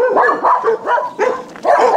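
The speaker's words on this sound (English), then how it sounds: "The dogs have gone nuts over something." Several dogs bark excitedly in a rapid, overlapping volley, loud and close, with some higher yips mixed in and no talk over them.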